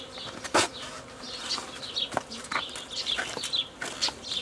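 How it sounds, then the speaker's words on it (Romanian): Honey bees from a queenless colony buzz close by, with loud individual bees zipping past in sharp swells over a steady droning hum, and no talking. "Însă albinuții se înghesie, trebuie să le împart."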